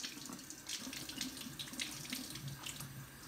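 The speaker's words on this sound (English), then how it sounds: "I'm going to wet my hands." Water from a faucet runs steadily into a sink while hands are wetted for a microbiology lab hand wash, a continuous soft hiss and splatter with slight flutters, close and fairly quiet, with no voices.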